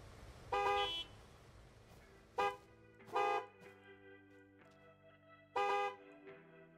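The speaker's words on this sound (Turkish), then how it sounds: "Lan çalmayın korna. Neye korna çalıyorsunuz?" Car horns honking at a gas station in the Gas Station Simulator video game: four separate loud blasts, some short and some held, with quiet engine idle between them.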